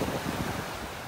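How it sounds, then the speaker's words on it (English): Wind buffets the microphone in a steady low rumble on a beach in North Naples, Florida, with a faint wash of surf underneath and no voices. "now that wind is starting to hit me"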